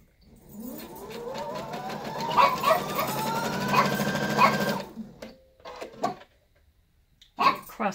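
A dog barks several times in short, sharp yaps while a sewing machine whirs up to a steady hum, stitching a quilt, then stops; more barks follow in the quiet.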